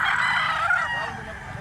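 A big three-year-old green-legged gamecock crows one long, loud call from close by, its strained cry filling the whole moment with no talk over it.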